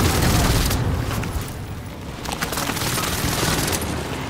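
Dense, loud gunfire and explosive booms in a Call of Duty Warzone battle royale match at Fortune's Keep, forming a continuous crackling barrage with rapid bursts of shots.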